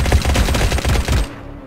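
Rapid, loud automatic gunfire aimed at a wall in the survival game Unturned, a dense burst of shots that stops abruptly and leaves a short fading tail.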